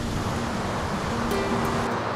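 High ocean waves crashing at Isla Mujeres, a dense, loud, unbroken roar of surf and spray, close by and constant.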